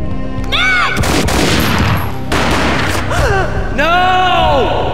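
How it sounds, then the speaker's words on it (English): Loud gunfire in the Max Payne video game: heavy booming blasts with a dense crackling tail, mixed with swooping, sliding tonal effects and game sound, and no one speaking. "A gunshot boomed and she fell down in slow motion."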